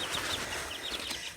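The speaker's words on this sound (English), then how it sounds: "Here are the little chicks I was just talking about." Chicks on a farm peeping softly, a quick series of faint high chirps with some light rustling, close but quiet.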